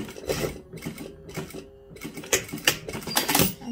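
Sewing machine running a single sample line of stitches on a satin dress being repaired, heard as close, uneven mechanical bursts of whirring and clicking with short pauses between runs.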